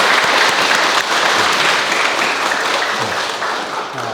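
Audience applause fills a lecture hall at the close of a Q&A talk, a dense, steady wash of many hands clapping at once, loud and continuous throughout without any voices rising above it.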